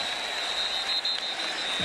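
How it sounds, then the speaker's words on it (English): Large football stadium crowd at an Alabama versus Florida State game roaring continuously, a dense, loud, unbroken wash of cheering and noise with no gaps. "Listen to this crowd on 3rd and 3"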